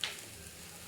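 A steady, soft sizzling bubble of sambar simmering in a pot, continuous and close, with no voices.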